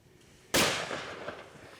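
A single rifle shot during an elephant hunt in Zimbabwe, a sharp loud crack after a quiet moment, followed by a rolling outdoor echo that slowly fades.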